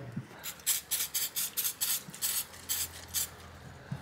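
A spray bottle of cleaner pumped about a dozen times in quick bursts onto an AMD RX480 graphics card circuit board, each short hiss close up, in a fairly steady rhythm.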